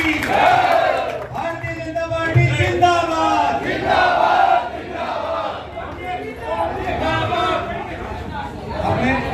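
Crowd at a BJP election office opening in Nagaur chanting the slogan Bharat Mata ki Jai, loud massed voices rising in repeated shouted bursts with babble between them.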